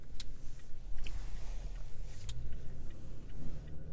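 A car fitted with a Pedal Commander throttle controller drives along, giving a steady low engine rumble and road noise from inside the cabin with small fluctuations and occasional light clicks.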